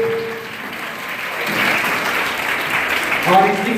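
Loud applause from an audience at a traditional cultural workshop, a sustained rush of clapping that swells midway and holds, with voices speaking over it near the end.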